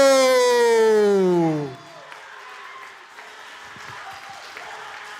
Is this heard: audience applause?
yes